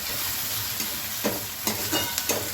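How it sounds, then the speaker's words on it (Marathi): Onion, tomato and green chilies fry and sizzle in a pan, a close steady crackle with a few short scraping stirs, and no talking. "आता तर आपला कांदा आणि टोमॅटो चांगला असं भाजून घ्यायचं"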